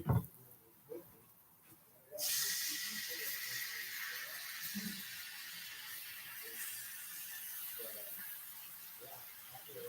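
Chicken pieces hit a hot pan and start a bright, steady sizzle that jumps in abruptly and holds loud and close, with a few clinks and handling noises beneath.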